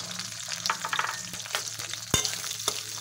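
Green chillies and onion fry in hot oil with bay leaf, dried red chilli and ground cumin, sizzling steadily close up while a utensil stirs and scrapes the pan now and then.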